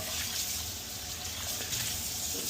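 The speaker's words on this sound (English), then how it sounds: "Let's go ahead and rinse it out." Tap water runs steadily over an Our Place Titanium Always Pan Pro nonstick pan as it is rinsed, a close, continuous hissing rush with no talking.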